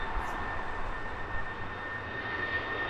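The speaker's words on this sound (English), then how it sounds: "Here's one that we don't catch very often. Vistara, part of the Air India group." A Vistara Boeing 787-9 Dreamliner at Heathrow Airport gives off a steady, distant jet engine roar with a faint high whine running through it, even and unbroken for a few seconds, with no voices.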